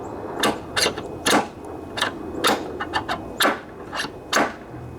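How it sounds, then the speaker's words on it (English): Repeated sharp metal hammer strikes drive a bearing into a John Deere LA145 riding mower deck spindle, about ten close, fairly evenly spaced blows with brief ringing after each, no talk. "Might just be able to hammer it in place that way."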